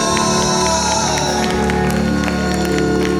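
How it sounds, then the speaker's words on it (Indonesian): A church congregation at a senior community service claps loudly, with scattered sharp hand claps over a dense backdrop of crowd noise and sustained musical tones. "Tepuk tangan yang baik buat Tuhan Yesus."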